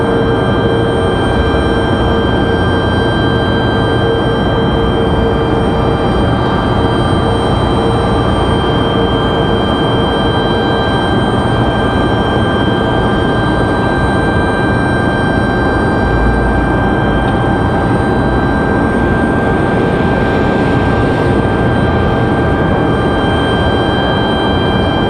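A Breeze Airways jet at Raleigh-Durham International Airport, a loud steady engine roar with a constant whine that continues unbroken throughout, with no talking.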